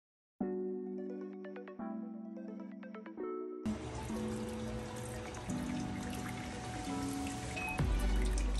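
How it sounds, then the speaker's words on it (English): Cooked pasta is drained into a sink, with a few clinks of the pot followed by a steady, close rush of water pouring and splashing as it is rinsed. "we're going to drain the pasta"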